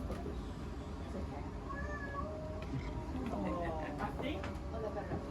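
A cat meows from behind a wall, its thin wavering cries muffled and fairly faint against a dense background, with people talking nearby.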